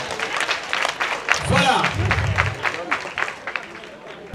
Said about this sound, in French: Merci d'applaudir pour vous-même.